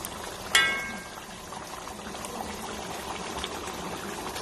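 Aloo matar paneer, made with potatoes, peas and cottage cheese, bubbles and simmers steadily in a pan, a soft continuous boiling hiss after a brief clink near the start.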